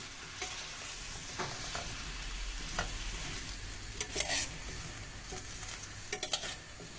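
Washed pearl onions sizzle and fry in a pan for a Turkish onion stew with meat, a steady crackling hiss with occasional stirring scrapes and a few clinks, no voices.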